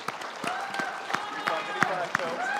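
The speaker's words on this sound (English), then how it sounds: "Round of applause for Barbara Ehart" Sparse, distinct hand claps ring out at a brisk, uneven pace through a crowd's round of applause at an Idaho legislative district primary debate, with voices faintly underneath.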